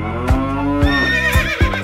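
A horse whinnies in a drawn-out, shaky call over layered music with steady beats, fairly loud and close.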